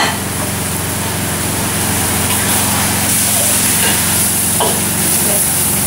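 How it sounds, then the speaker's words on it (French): Fish simmering in a pan for a drunken fish recipe, with chopped spring onion added, giving a steady, fairly loud bubbling sizzle that runs unbroken throughout with no talking. "ça fait bien 4 minutes qu'on est en train de faire mijoter tout le poisson"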